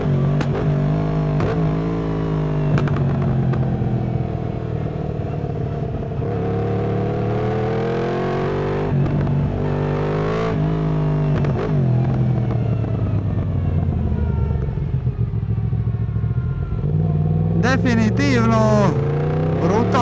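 A Yamaha MT-10 SP with its crossplane four-cylinder engine pulls hard, loud rising and falling engine tones sweeping up through the gears, close and continuous, with someone talking over much of it.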